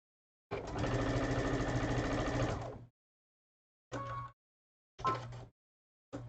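A sewing machine stitches cotton fabric in one long run of rapid, even chattering, then three short bursts of stitching separated by silence, close and clear with no talk.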